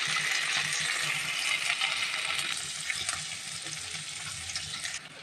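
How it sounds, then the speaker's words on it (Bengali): Pieces of hilsa fish lightly frying in oil in a pan for biryani, a steady soft sizzle and crackle throughout with occasional stirring clinks. "আমরা একটু দুপাশটা ভেজে নেব পিসগুলো কিন্তু এইভাবে আমরা হালকা করে ভেজে নিচ্ছি"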